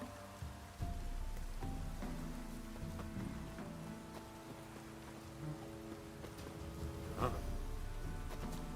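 Steady heavy rain in the video game The Witcher 3 pours down across the whole stretch, a dense hiss of drops with a few sharper knocks standing out.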